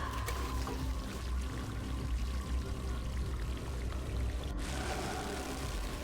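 Water pouring and trickling steadily into a sample flask in a video game, a close, continuous, even stream that runs throughout with no voices.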